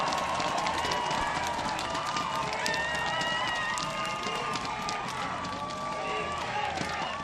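Dense, steady applause and cheering from a large crowd at an outdoor election campaign rally in Daejeon, sustained at even loudness throughout with a thick wash of clapping and voices.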